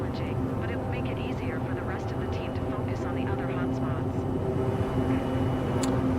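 A firefighting plane's engine drones steadily in an aerial firefighting video game, a dense continuous hum with a faint higher whine, while a person talks over it throughout.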